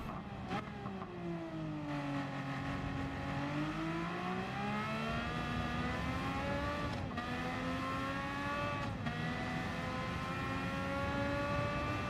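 A race car engine in Gran Turismo 7 revs steadily through a long run, its pitch dipping and rising again with brief breaks at the shifts, loud and continuous with no other sounds.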